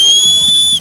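A sharp, high whistle is blown in one sustained, piercing blast that cuts off abruptly, heard during a cricket game.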